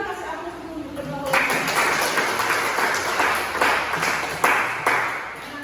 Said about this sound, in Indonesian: Kita kasih aplaus untuk berdua.